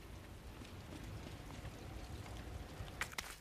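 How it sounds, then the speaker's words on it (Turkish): Rain falling in the horror video game Resident Evil 2 Remake, a steady soft patter and hiss, fairly faint, with a few sharper knocks near the end. "Yağmur başlamış."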